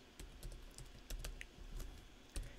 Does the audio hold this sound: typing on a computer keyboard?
yes